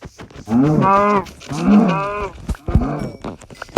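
Cow mooing in the Minecraft video game: three loud, close, drawn-out moos in quick succession, each a rising and falling bellow, with a brief click between.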